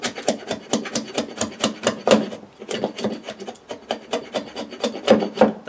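Hand rasp or file worked over a wooden carving blank during stock preparation, a steady run of close, rhythmic scraping strokes, roughly three per second, with a short pause midway.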